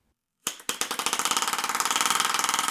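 A tiny air-pressure piston motor with a miniature regulator starts abruptly, then pulses in a rapid, even train of sharp puffs that quicken and blur into a buzzing chatter, close and alone.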